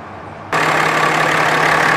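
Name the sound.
Ram 2500 6.7 liter I6 diesel engine idling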